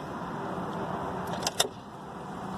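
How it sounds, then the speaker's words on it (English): Road traffic rumbles steadily outside a car, heard from the cabin, with a couple of brief clicks and rattles near the middle before the wash of passing vehicles carries on. "A lot of traffic."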